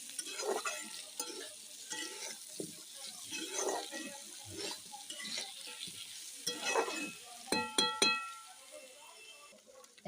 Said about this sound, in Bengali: দেখুন নেড়ে দিলাম একসঙ্গে, সুন্দর করে নেড়ে দিলাম।